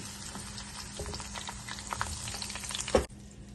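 Okra fries in oil in a pan, a bubbling, crackling sizzle with a few stirring scrapes, rising to a louder clatter before cutting off suddenly near the end; no talking.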